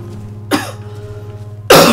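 Two sharp, loud coughs from a person, about a second apart, over a low steady background hum during a Resident Evil: Revelations 2 playthrough.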